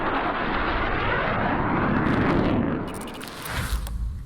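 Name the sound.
GAU-12 rotary cannon firing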